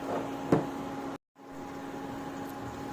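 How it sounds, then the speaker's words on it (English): A steady microwave oven hum with a low drone and faint sizzling crackles from food cooking inside, briefly cutting out once, then resuming. "So it's definitely making some noise in there, huh? Got some sizzling action."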